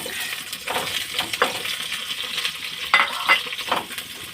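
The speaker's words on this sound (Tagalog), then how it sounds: "isunod ko naman itong talong. Iprito kong bagya." Eggplant fries lightly in a pan with a steady close sizzle, broken by occasional scraping and stirring clatters as the pieces are moved around.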